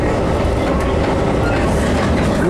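Chicago electric commuter train heard from on board as it rides, with a constant loud rumble and clatter of wheels on track.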